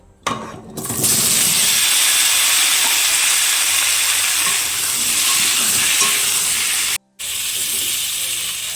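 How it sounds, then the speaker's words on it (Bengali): Potatoes fry in hot oil for a Bengali fish curry with taro, a loud steady hiss and sizzle that starts abruptly and runs for several seconds, broken by one brief cut near the end. "আমি এই গরম তেলেই আলুগুলোকেও ভেজে নেব।"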